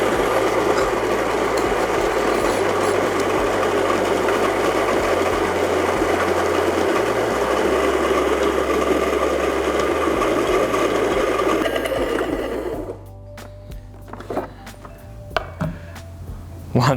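A home filter coffee grinder grinds beans with a loud, steady whirring drone for about thirteen seconds, then cuts off abruptly, leaving a few light clicks and taps.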